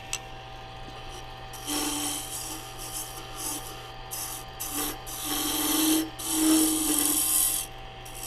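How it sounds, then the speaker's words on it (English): Flat-bottomed carbide insert tool scraping across spinning wood on a lathe while shaping a turning template, a steady rasping hum with brighter scratchy bursts as the cutter bites in, close and continuous. "So I'm using that carbide insert tool, it's got that flat bottom."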